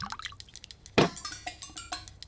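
Whisky is poured neat into a glass, a large measure with no water, heard as soft, close liquid splashes and drips in uneven bursts, with one sharper splash near the middle.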